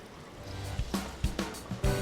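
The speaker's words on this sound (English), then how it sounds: "Let's add a little bit of water." Water poured into a pot of alligator sauce piquant, a short run of splashing and gurgling with several distinct plops and sloshes against a low kitchen background.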